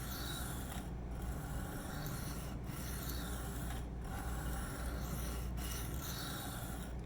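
A Spyderco Sage 5 knife with an M4 steel blade is sharpened freehand, with continuous rasping strokes of steel across a stone and brief pauses between passes, close and steady, no talking.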